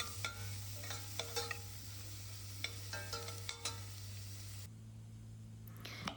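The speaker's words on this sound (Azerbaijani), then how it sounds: "Yer kökünü də üzərinə əlavə edib, biraz da belə qovururam" Chopped onion and carrot sizzle softly in a pan for pea soup, with a low hum and several sharp scraping and stirring knocks from a utensil before the sound turns quieter near the end.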